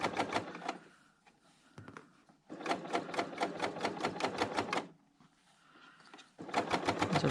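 A Bernina L890 sewing machine stitches through a bulky quilt seam, a rapid, even run of needle clatter in three bursts separated by brief pauses, close and clear.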